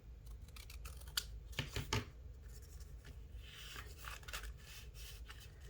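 Scissors snip and trim paper for a gift card holder, giving quiet, close crisp cuts in short bursts with light rustling of the paper between the snips.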